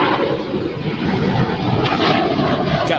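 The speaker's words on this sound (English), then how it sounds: "the JetBlue A321 flies right over us" A JetBlue Airbus A321 passes right overhead at LAX, its steady, loud broadband engine roar filling the air close by without letting up. No one speaks over it.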